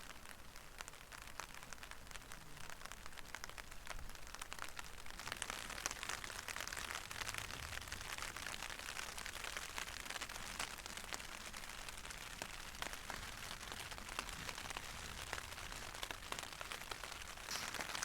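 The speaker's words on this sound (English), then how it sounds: "The rain definitely came earlier than the forecast was" Rain falling on a tent during a wild camp by a Scottish loch: a soft, steady patter of drops that builds slightly after the first few seconds and stays even and fairly faint throughout.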